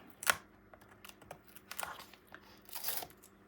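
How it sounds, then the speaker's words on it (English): Backing is peeled from adhesive tape on the spine of a 9 x 9 paper mini album, making quiet, close crackly tearing bursts with a sharp rip near the start and another near the end. "I'm going to take off the backing on the tape that's here on the spine"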